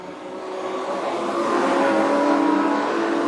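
Modified sedan race cars at Carina Speedway roar through the turns, engines building and sustaining a loud, rising rev as the pack passes close by, with no talk over it.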